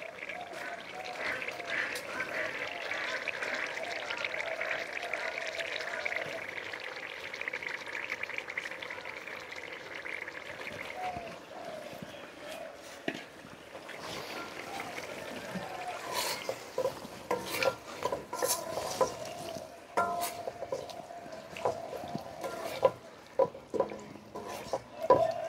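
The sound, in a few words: mixed fish added to cooked spice paste in pan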